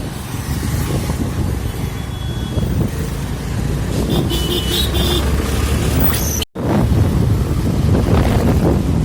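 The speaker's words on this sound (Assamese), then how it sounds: "কেনেকুৱা ট্ৰাফিক জাম লাগিছে এই গৰমত" Congested city road traffic in a market area, with a dense, continuous engine rumble and wind buffeting, a few faint horn tones rising out of the din, and a brief dropout near the end.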